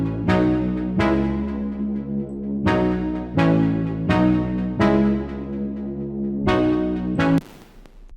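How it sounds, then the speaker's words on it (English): Layered synth chords from the breakdown of a future trance track, sustained and loud, restarting in a steady rhythm of long stabs with a brief noisy swell at the very end; no voices. "The synths in the break sound like this."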